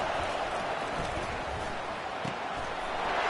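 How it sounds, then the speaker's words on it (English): Crowd noise swells in a video game American football match on third down, a broad steady roar from a packed stadium that stays loud throughout with no clear talk over it. "Decibels rising as the crowd gets behind this defense on 3rd down."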